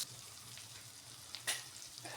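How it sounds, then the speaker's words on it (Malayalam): Fish fries in a pan in a home kitchen with a soft, continuous sizzle and crackle, a sharper pop or spatter near the middle, close by and fairly quiet, with no talking. "ചേച്ചി അവിടെ ഇല്ലാത്തത് കൊണ്ട് അപ്പം മീനൊന്ന് മൂത്ത് വരട്ടെ."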